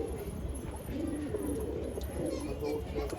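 Low, murmuring pigeon coos repeat softly and steadily against a quiet outdoor background, with no clear speech.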